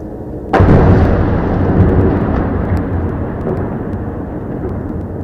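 Israeli artillery fire in Gaza: one loud, sudden boom followed by a long, heavy rumbling roll that slowly fades over several seconds, with no voices.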